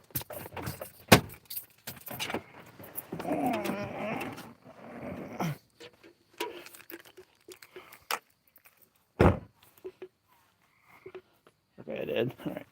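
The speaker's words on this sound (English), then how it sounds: "gotta grab my other keys" Keys jangle in a few sharp metallic bursts while being grabbed, close by, mixed with rustling, a dog's growls and intermittent talking.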